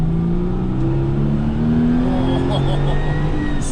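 Porsche 911 993 C4S accelerating hard in second gear, a loud, steady engine note climbing in pitch over several seconds from inside the car, with a voice talking over it.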